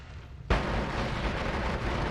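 A sudden loud explosion in a combat video game with a sharp boom, then a sustained rumbling roar that carries on for the rest of the clip, close and heavy, with no talking.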